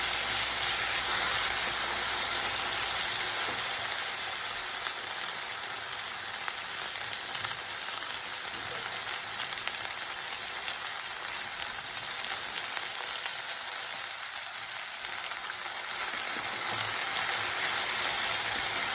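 Mustard seeds, cumin, dried red chillies, peanuts and chana dal with turmeric crackle and sizzle steadily in hot oil for an amla pulihora tempering, a constant frying hiss with scattered pops, close by with no talk.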